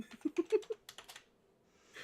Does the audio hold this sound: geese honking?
no